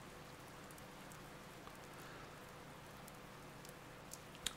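Steady soft rain hiss from the video game Persona 4 Golden on PS Vita, a continuous even wash of drizzle with no voices, faint and uniform throughout.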